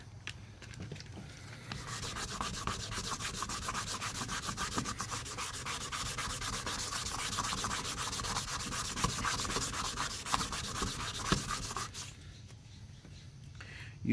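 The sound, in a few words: sanding plastic headlight with sandpaper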